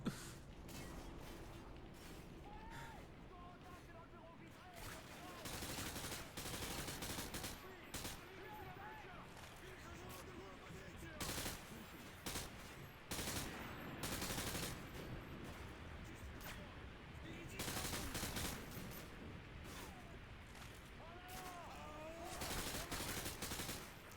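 Dense, loud gunfire from the video game Call of Duty: Modern Warfare 2, with rapid automatic bursts and heavy blasts running almost continuously, plus brief voices and radio chatter mixed in.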